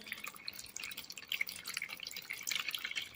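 Water being emptied out of a bottle, falling in a quick run of splashy drips and trickles close to the microphone, at a quiet level with no talking.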